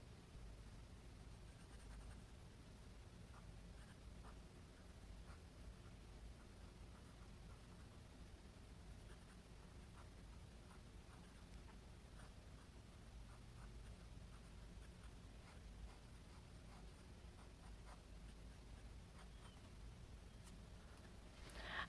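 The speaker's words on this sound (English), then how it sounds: "Next I'll be writing with my Platinum 3776 Diamond Black. It has a 14 karat medium nib." Platinum 3776 Diamond Black fountain pen with a 14k medium nib writing on paper, a faint, close, steady scratchy rustle of nib strokes throughout.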